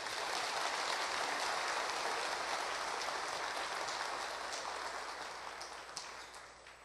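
A church congregation applauds to welcome a visiting pastor at a Bible lecture gathering: steady, dense clapping from many hands, fairly distant and roomy, tapering off toward the end.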